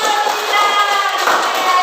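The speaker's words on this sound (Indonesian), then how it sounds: "Tepuk tangan." A group claps together in applause, a steady dense patter of many hands that runs the whole way through with an even loudness.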